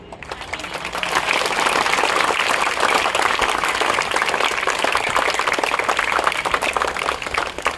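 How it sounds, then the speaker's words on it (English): A school assembly audience gives students a big round of applause, building quickly from a few claps into a full, sustained ovation of many hands. "So big round of applause for all these students."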